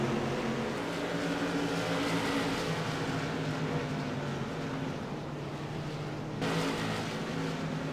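Stock race cars lap The Bullring short track at Las Vegas Motor Speedway, their engines making a steady, loud, sustained roar with a slight shift in pitch near the end.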